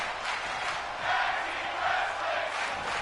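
Crowd cheering and roaring at a WWE 2K23 video game wrestling tag team match, a steady broad wash of arena noise that swells louder twice, with no talk over it.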